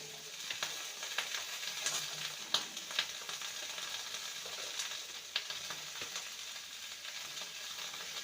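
Pumpkin stems tossed into a pan of frying vegetables give a steady, fairly quiet sizzle, broken by soft scraping clicks as a spatula turns them over at irregular intervals.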